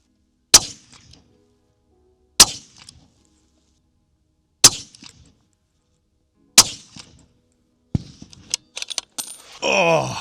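A Sig Cross Trax .308 rifle fires four sharp, evenly spaced shots about two seconds apart, each a hard crack with a short decaying tail, followed by quick clattering handling noises and a rising rustle.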